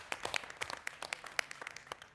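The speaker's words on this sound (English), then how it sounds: "So let's get a round of applause for the Newsfeed Cafe." Small audience giving a round of applause at a public talk event, with sparse, scattered claps of moderate loudness over about two seconds.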